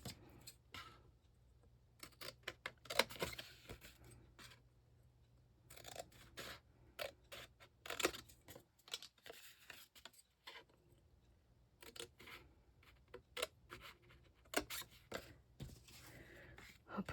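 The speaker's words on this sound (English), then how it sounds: "We're going to cut those 4 off on each side there." Scissors snipping through paper pieces for a Christmas-themed advent calendar craft, a run of sharp, clicky cuts in bursts with pauses between, close and fairly quiet.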